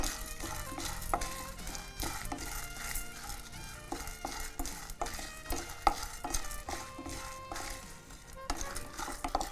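Chana dal, coriander seeds and dried red chillies dry-roasting in a pan, a continuous dense rattle and scrape of stirring with scattered sharper clinks, moderately close, with no voices.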